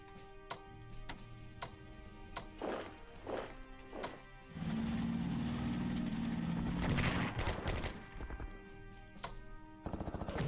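Unit attack effect from the Strategic Command: World at War strategy game, Axis side striking a communist HQ in Burma: a burst of crashing, gunfire-like impacts with a sustained rumbling stretch, loud and alone without talk.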